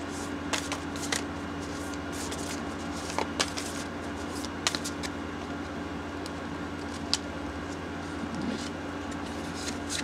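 Oracle cards being shuffled and picked from a deck, a steady close soft riffling rustle with a few sharp snaps and taps, alone over a low room hum.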